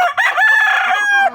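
A young gamecock of the pure SBR line crows once, loud and close, a full drawn-out call rising and holding before it breaks off, with no talk over it.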